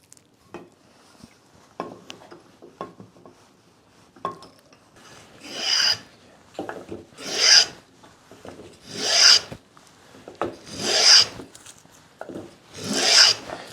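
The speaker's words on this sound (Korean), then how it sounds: "쌍사 대패도 마찬가지. 얘를 이렇게 따박따박 들어서 대패질해야지." Korean moulding hand plane (ssangsa daepae) drawn over wood, a series of about five rasping strokes that grow louder and longer, with lighter scraping and tapping beforehand, close and without talk.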